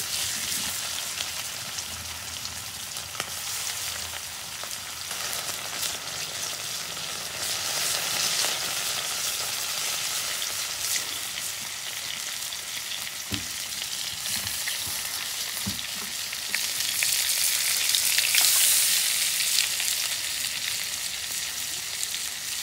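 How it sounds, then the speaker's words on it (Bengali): Batka fish fry in hot oil in a home kitchen, a long steady sizzling hiss with occasional crackles and a louder surge of spattering toward the end, close and continuous without talk. "তেল গরম হচ্ছে, এখন মাছ ভাজুন।"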